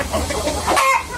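Free-range Vietnamese native hens clucking close by at a farm, a steady run of short, overlapping clucks and calls from several birds with no talk.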